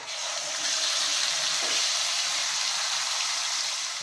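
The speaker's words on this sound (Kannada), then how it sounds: "ನೋಡಿ, ಈಗ ಈರುಳ್ಳಿ ಎಲ್ಲ ಸ್ವಲ್ಪ ಫ್ರೈ ಆಗಿದೆ." Onion paste sizzles steadily in hot oil with fennel seeds, cinnamon, cloves, cardamom and bay leaves, cooking as a base for rajma gravy; a constant, close hiss with no talk.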